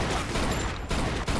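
Gunfire in the crime shooter Mafia 2 comes as dense, loud bursts of rattling shots over constant noise, breaking off briefly twice before resuming.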